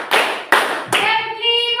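A school class claps a counted rhythm together in a classroom, three sharp unison claps in quick succession, with a voice starting to sing or call out after the last one.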